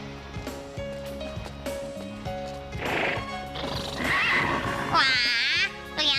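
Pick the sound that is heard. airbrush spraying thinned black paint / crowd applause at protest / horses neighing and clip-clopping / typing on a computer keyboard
horses neighing and clip-clopping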